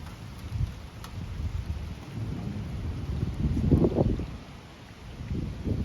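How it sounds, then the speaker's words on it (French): A thunderstorm over Metz brings low rolling thunder rumbles that swell and fade over steady rain, heard from a distance with no talk. "Heureusement on a encore les orages."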